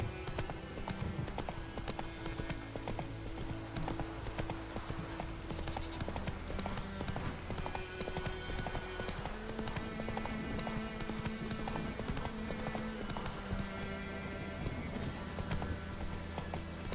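Rapid rhythmic clip-clop of a horse galloping in The Witcher 3, steady hoofbeats running throughout over ambient game music and background drones.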